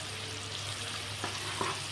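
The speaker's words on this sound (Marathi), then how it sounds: "एक मोठा कांदा कट करून घेतला होता मी. तो तेलामध्ये असा थोडासा ब्राऊन, त्याला थोडासा असा ब्राऊन कलर येईपर्यंत तेलात तळून घेऊया." A large chopped onion fries in hot oil, giving a steady close sizzle throughout with a couple of faint stirring scrapes and no voices.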